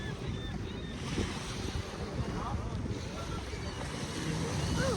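Surf washes steadily onto a beach under gusting wind that buffets the microphone, forming a constant roaring wash with faint voices in the background.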